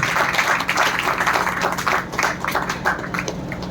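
Loud, dense clapping from a church congregation giving thanks to God during a Punjabi sermon, steady and close.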